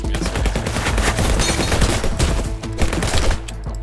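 Rapid, loud gunfire from shotgun-armed enemies in the video game Sword With Sauce: dense overlapping shots and impacts in a continuous burst lasting several seconds.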